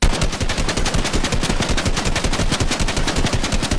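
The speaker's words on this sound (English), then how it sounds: "The gray assault rifle does 30 damage to the body," A gray assault rifle firing in Fortnite, a loud, continuous stream of rapid, evenly spaced automatic shots heard close up without any talking.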